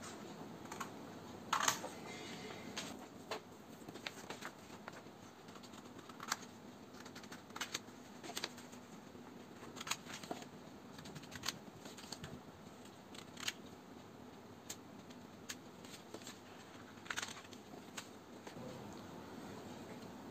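Scissors snip through paper along the outlines of a hexagonal pyramid net, a quiet series of brief crisp clicks at an irregular pace, each cut faint and close with soft handling noise between.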